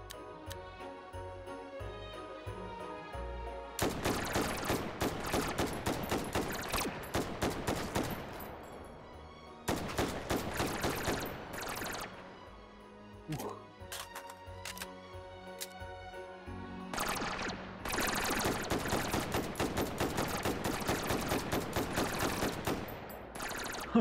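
Gunfire in the Hot Dogs, Horseshoes & Hand Grenades VR game rattles in rapid sharp bursts, several long strings of shots separated by brief pauses, loud and up close.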